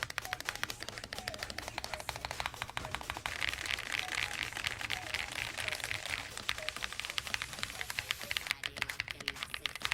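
Rapid, continuous typing on a thocky 65% mechanical keyboard, the XVX M67 Jade Stone, with dense clicky keystrokes, fairly close and steady throughout, with no voices.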